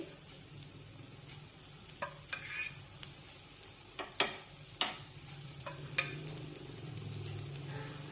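Jowar flour appe sizzle softly in an appe pan after a drizzle of oil, with a faint steady frying hiss and occasional light clicks and pops.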